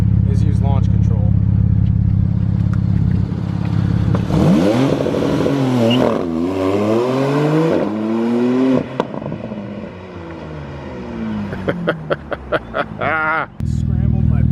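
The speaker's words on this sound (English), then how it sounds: "the first thing I'm going to do in this car is use launch control." Porsche 911 Turbo (991) with Soul exhaust doing a launch-control start: a loud steady idle-rev hold, then hard acceleration with rising and falling gear sweeps, and sharp crackles near the end, with people talking over it.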